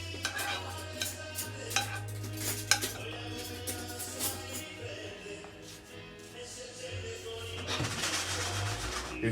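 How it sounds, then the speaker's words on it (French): Stuffed tortelli filled with pollock and artichoke are set onto a plate in a kitchen, giving soft scattered clinks and scrapes of cutlery against dishes over a steady low hum, with a brighter clatter near the end. "on commence à disposer les tortelli sur l'assiette"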